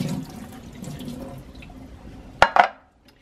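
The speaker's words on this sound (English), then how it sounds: "now I'm going to drain the water out" Water drained from a tray of soaking microgreen seeds in a kitchen: a quiet trickle gives way to two short, loud splashing pours near the end, with no talking.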